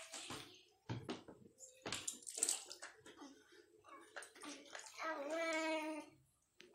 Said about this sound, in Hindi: इस तरह से आप अपने बच्चे को इस बार टब में नहला सकते हैं।